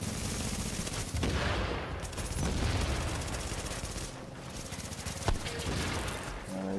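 Sustained turret gunfire from The Division video game, a dense roar of rapid shots with occasional sharper bursts, loud and continuous throughout without speech.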